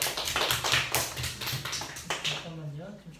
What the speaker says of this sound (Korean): 네, 우리 수민이를 위해서 박수.